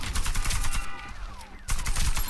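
Gunfire bursts in the online shooter Warface, rapid automatic shots in dense volleys, loud and close, pausing briefly before another burst.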